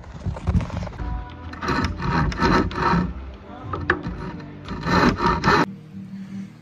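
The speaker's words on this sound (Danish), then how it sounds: "Kan vi så save de her overskydende af? Der bruger jeg simpelthen en håndsave." A hand saw cuts excess wood off a triangle template for an 8 m geodesic dome, with rapid rhythmic back-and-forth rasping strokes, close and loud, that stop abruptly near the end.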